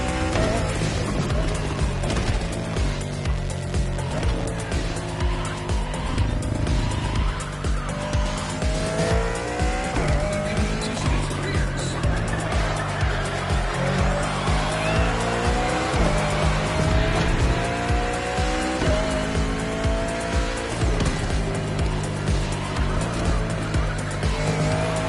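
Race cars tear around a track in The Crew Motorfest, engines roaring steadily with rising and falling revs, tires squealing and skidding through corners, loud and continuous with no talk.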